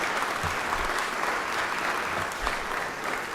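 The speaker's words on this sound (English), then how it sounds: "So y'all give them a round of applause." Audience applause in a legislative chamber during a state session, a steady wash of clapping from many hands at moderate volume, sustained without a break.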